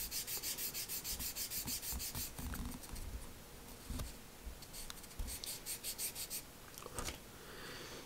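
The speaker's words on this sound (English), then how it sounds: "I'll sand it a little bit because I want it" A small wooden piece of a catapult glider is sanded by hand, making soft, rhythmic scratchy strokes up close. The scraping comes in short repeated bursts at low volume, with no speech.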